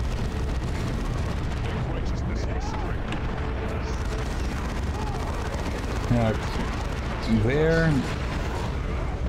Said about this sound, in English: call down some artillery on that